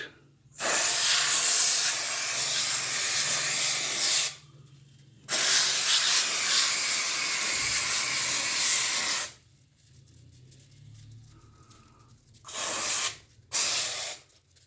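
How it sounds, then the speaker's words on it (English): 3M air conditioner cleaning foam sprays from an aerosol can onto a split AC unit in loud hissing bursts: two long sprays of several seconds each, then two short squirts after a quiet pause. "Okay, I'm going to spray it."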